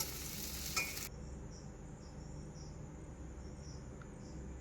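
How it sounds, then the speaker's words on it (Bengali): A burst of loud sizzling from onions frying in a hot pan, then the sizzle drops to a quieter steady hiss with faint high chirps. "পেঁয়াজটা দিয়ে এইভাবে ভেজে নেবেন দুই চারবার নেড়ে নেড়ে ভেজে নেবেন"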